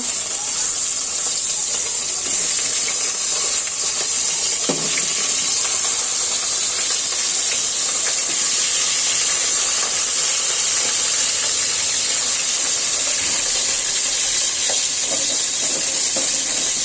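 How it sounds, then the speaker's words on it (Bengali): Pieces of rohu fish dropped into hot oil with panch phoron for a pumpkin curry, a loud continuous sizzling hiss that runs steadily throughout with a few faint clinks. "পাঁচফোড়ন অ্যাড করে দিলাম মাছগুলো ছেড়ে দিব"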